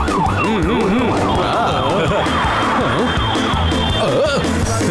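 An ambulance siren wails continuously and loudly in heavy traffic, its rising and falling tones layered with other siren sounds and a busy street background throughout.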